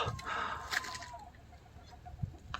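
Hens cluck quietly over a steady background hum. A few brief louder thumps come through, and there is no talking.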